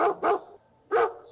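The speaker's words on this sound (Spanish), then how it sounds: "perro" Dog barking close by, a quick double bark, a short gap, then another bark, loud and clear with nothing else behind it.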